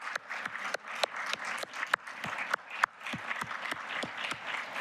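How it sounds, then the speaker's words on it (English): An audience at a summit on women in apprenticeship applauds event staff with a fairly quiet, uneven patter of clapping that continues steadily throughout. "please give them a round of applause"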